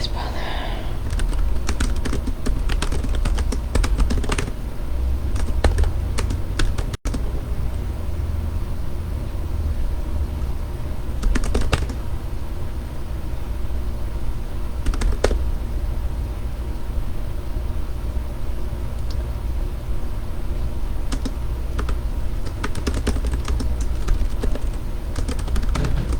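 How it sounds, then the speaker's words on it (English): Someone types at a computer keyboard in bursts of rapid key clicks separated by pauses, close by and clear over a low steady background hum, with no talk. "I do like typing this out in the moment."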